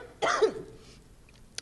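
A single person's cough bursts out loudly at a reading event, followed by a brief gasp and fading breath, with a faint click near the end.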